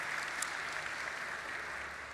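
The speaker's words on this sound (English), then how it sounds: "a round of applause for that" Applause from the audience at an awards ceremony, a steady wash of many hands clapping in a large hall, moderately loud and unbroken, with no talking over it.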